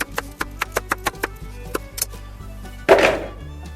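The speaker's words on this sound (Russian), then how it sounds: "нарезаем кружочками." A knife chops a carrot into rounds on a cutting board while chicken thighs with vegetables are prepared, about a dozen sharp close taps in quick rhythm, followed by a brief scraping sweep.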